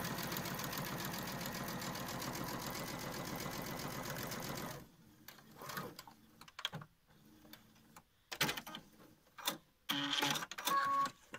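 A sewing machine stitches fabric while a face mask is made, running steadily and close for a few seconds, then stopping into short bursts of backstitching and handling clicks.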